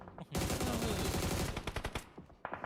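Steyr AUG rifle firing in PUBG Mobile during a competitive match: a dense, sustained burst of rapid gunshots, loud and close, trailing into a few scattered separate shots near the end.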